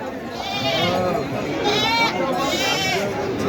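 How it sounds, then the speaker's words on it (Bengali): Goats bleating at a crowded livestock market in Bangladesh, repeated wavering bleats close by over steady crowd chatter and talk. "দেখছেন মানুষের ছাগলের হাটের বিভিন্ন ছাগল"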